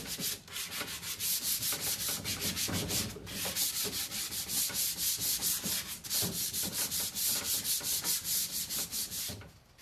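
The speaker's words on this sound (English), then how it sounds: "that is what I mean when I say scuff sanding" Rapid, steady back-and-forth scuff sanding of wooden furniture by hand with sandpaper, the strokes rhythmic and close, with a couple of brief pauses.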